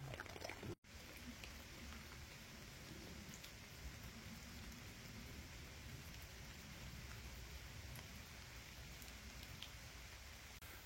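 Steady rain falls throughout on a walk back from a bivouac, a dense, even hiss of drops that stays constant and fairly close, with a brief dropout near the start and no talking.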